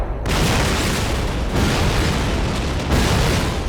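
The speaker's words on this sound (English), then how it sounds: "if Doyle set the fuses correctly, that lighthouse should be going up right about now" A lighthouse blows up in Call of Duty, Sicily mission: a loud, sustained explosive roar fills the whole moment, a heavy boom that rumbles on with slight surges, dense and close, without any voices.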